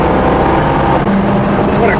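A 1974 Pontiac Trans Am with a 455 engine accelerating hard, a loud, dense rumble and roar that holds steady throughout, close up.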